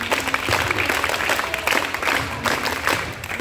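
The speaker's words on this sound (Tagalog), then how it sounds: "Bigyan na maraming palakpak." A group of scouts clapping around a backyard campfire at a Boy Scouts of the Philippines camp, giving steady, moderately loud applause with a dense patter of hands throughout.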